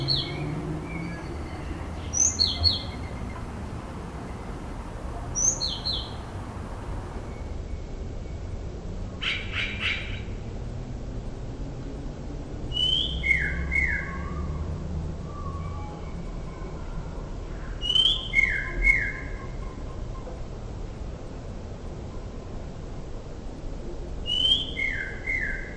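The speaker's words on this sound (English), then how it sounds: "Blue-tit calls." Blue tit calls slowed down to a quarter speed, sounding like low, drawn-out whistled notes repeated every few seconds, faint over a steady background hiss, with no voices.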